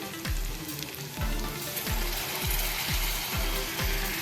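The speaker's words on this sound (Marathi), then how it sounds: "आता ह्याच्यामध्ये आपण जे दह्याचं मिश्रण बनवलेलं आहे मसाल्याचं ते घालायचं आहे" A spiced yogurt and masala mixture hits softened sautéed onions in a hot pan for an Indian egg masala fry, giving a steady close sizzle with a repeating scraping or ratcheting sound about every half second.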